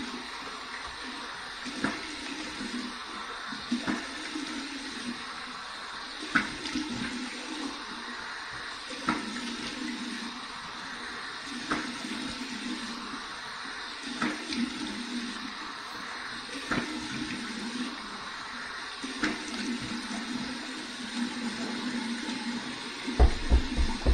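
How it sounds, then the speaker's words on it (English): Warm water runs steadily from a tap into a sink for a rinse after shaving, a soft, continuous hiss and splash with occasional small bumps and clatters nearby and no talking. "Here's my warm water rinse."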